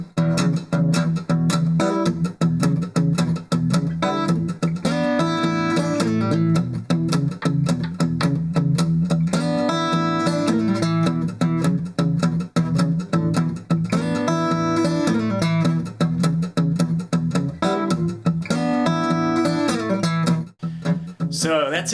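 Fingerstyle blues acoustic guitar, with a steady shuffling bass on the fifth string under quick chord stabs on the top three strings, played continuously and close up without talking.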